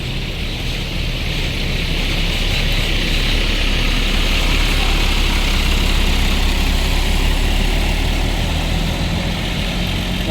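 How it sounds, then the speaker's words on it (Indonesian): A premium intercity bus arriving at a busy terminal near Karangpucung, its engine idling with a loud, steady low drone close by, continuous and without talk. "di saat yang sama juga masuk lagi satu armada dari bus premium ya"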